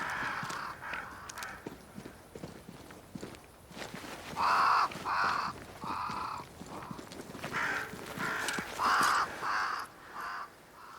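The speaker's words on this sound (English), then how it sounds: "They flock to that great tree up there." Several crows caw in a video game, Banishers: Ghosts of New Eden, where they flock to a great tree, with harsh repeated calls in bursts against a faint outdoor ambience and a few footsteps or hoof clops.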